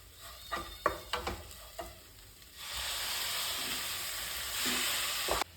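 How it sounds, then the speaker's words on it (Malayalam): A few sharp scraping taps of a spoon in a pan, then tomato puree hits hot oil and frying masala with a sudden loud sizzle that keeps hissing. "രണ്ട് തക്കാളി അടിച്ചതുകൂടെ ഒഴിച്ചു കൊടുക്കാം"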